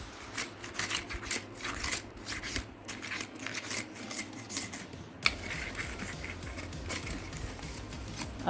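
A screwdriver scrapes dried premix drink powder of mango or sweet lime, a quiet, steady rasping and scratching that keeps going with brief pauses and a small click near the end.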